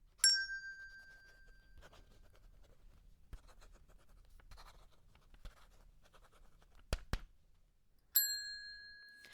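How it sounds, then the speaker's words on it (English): A quiz team presses a desk bell in a classroom quiz round, two bright rings at the start and end with a long decaying tone, between them quiet pencil scratching of writing and a couple of sharp taps. "Team A has pressed their bell."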